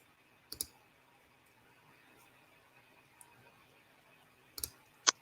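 Sharp, isolated computer mouse clicks in a quiet room, a couple of paired clicks near the start and another pair near the end, with a faint steady hum underneath.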